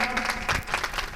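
Audience applause at a Hindi comedy poetry gathering, a dense, steady wash of many hands clapping together, loud and close throughout the short burst with no speech over it.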